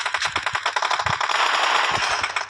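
Rapid bursts of gunfire in a shooter video game, loud repeated cracks and rattling shots over a dense, noisy background with no talking.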